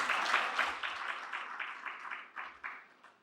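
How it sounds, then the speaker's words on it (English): A crowd applauds with steady clapping that gradually fades away over a few seconds. "Another round of applause."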